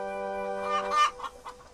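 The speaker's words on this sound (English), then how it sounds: "At long last, Farmer McCall arrived with the chickens." A sustained tone fades into a few soft, close clucks from a chicken, short and spaced apart.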